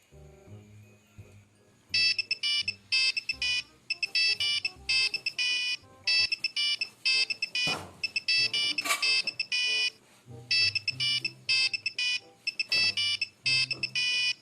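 An electronic telephone ringtone plays in bursts of rapid, bright, buzzing beeps that repeat in a steady rhythm for several seconds at a time. The ringing is loud and close, and voices can be heard faintly in the gaps.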